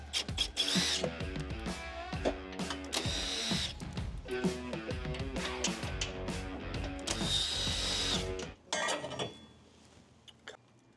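A power tool drives out three 10mm cover bolts on a Jeep JL diesel, whirring in several short, loud bursts with brief pauses between them, close up, then cutting off near the end.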